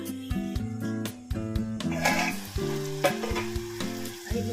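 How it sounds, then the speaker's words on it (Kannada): Tomatoes cook for tomato gravy in a lidded pan, a soft steady sizzle running beneath prominent melodic background music. "ಟೊಮೊಟೊ ಸ್ವಲ್ಪ ಚೆನ್ನಾಗಿ ಬೇಯಬೇಕು, ಅದಕ್ಕೋಸ್ಕರ ಮುಚ್ಚಳ ಮುಚ್ಚಿ ಒಂದು 5 ನಿಮಿಷ ಬೇಯಿಸ್ಕೊಳ್ಳೋಣ."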